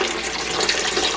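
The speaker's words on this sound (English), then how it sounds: "I'm going to pour a little bit more water in." Water pours into a tamale steamer pot in a steady, close, continuous splashing rush without a break.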